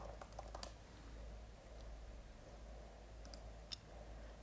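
Keystrokes on a computer keyboard while a search is typed: a quick burst of clicks at the start and a few more scattered taps later, faint and close over a steady low hum, with no talking.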